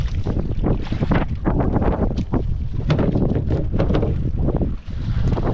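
Steady wind buffets a microphone outdoors at sea on a fishing trip, a constant rough roar with gusty surges and low rumble throughout.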